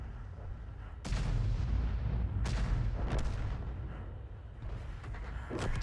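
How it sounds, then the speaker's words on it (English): Distant enemy tank artillery firing in a video game, heard as several booming shots with rolling low rumbles, spaced irregularly across a quiet background, faint and far off. "Listen for that distant rumble. That's the enemy firing in this direction."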